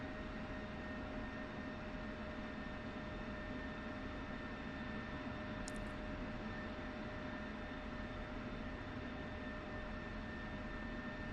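Steady jet engine whine and broadband rumble from an F-16C taxiing slowly at Nellis in the DCS flight simulator, constant and even throughout with tonal hum lines and a brief tick midway.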